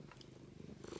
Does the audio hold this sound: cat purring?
yes